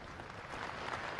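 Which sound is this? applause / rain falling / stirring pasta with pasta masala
applause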